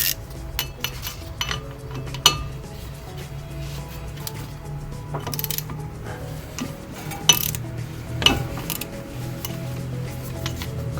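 A 12mm socket on a ratchet undoes the brake disc guide bolts on a Fiat Barchetta, with scattered metallic clicks, clinks and ratcheting taps, close but fairly quiet, without talk.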